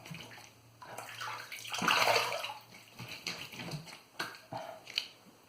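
Running tap water splashes as a boar-bristle shaving brush or razor is rinsed during a wet shave, with a louder gush in the middle and intermittent close splashes and taps around it.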